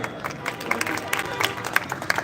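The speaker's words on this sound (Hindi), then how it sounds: "और जोरदार तालियों से बेटे का स्वागत कीजिए।" Audience applause rises at a live televised gathering in India to welcome a young student. It is a steady, moderately loud wash of clapping with scattered sharper claps throughout.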